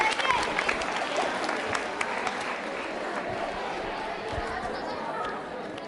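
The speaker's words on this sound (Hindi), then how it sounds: "तालियां जोरों से बजाई उषांगनी के लिए।" Schoolchildren at a quiz show applaud a contestant named Ushangini with steady, crowded clapping that holds its level throughout, mixed with faint chatter from the room.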